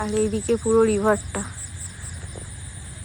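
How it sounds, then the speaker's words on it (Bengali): Crickets chirp at night around a riverside resort, a thin, steady high trill running throughout, faint beneath a nearby voice talking at the start. "ঝিঝি পোকা ডাকছে"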